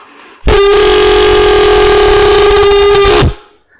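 A loud, steady horn-like blast from several pipes sounding together, held for nearly three seconds before cutting off, mimicking a train horn.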